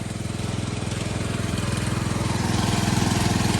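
An old junk lawn mower engine runs under load while pulling, giving a loud, steady, rough drone that holds throughout and grows slightly stronger toward the end.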